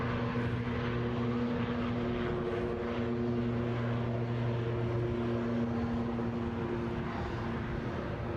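A Ryanair aircraft at Edinburgh airport hums steadily nearby, its engines giving a constant drone with a few sustained low tones, unbroken for the whole stretch and with no voices.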